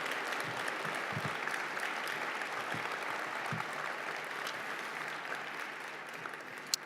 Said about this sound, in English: give a round of applause for our students this morning